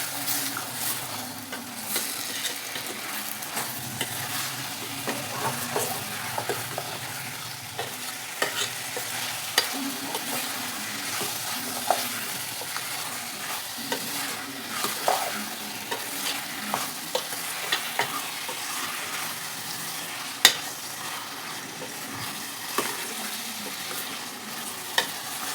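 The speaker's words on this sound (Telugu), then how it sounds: "మొత్తం మసాలాలన్నీ కలిసేలాగా కలుపుకున్నాం." Masala with home-made coriander powder is stirred in a pan for egg and drumstick curry, with a soft sizzle of frying under repeated scraping strokes and occasional sharper taps of the spatula, fairly quiet and close.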